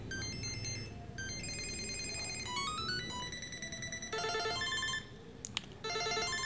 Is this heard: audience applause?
no